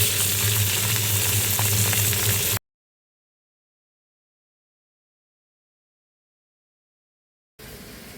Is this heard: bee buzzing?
no